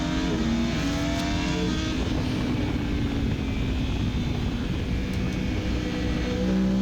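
A Yamaha R1M motorcycle accelerates hard on a race track, its engine screaming loudly and climbing in pitch through the gears, with other machines droning close by.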